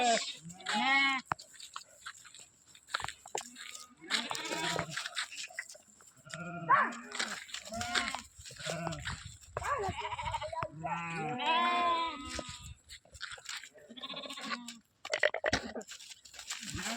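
A flock of sheep bleats in a rural setting, with repeated wavering cries overlapping one another at close range, mixed with people talking throughout.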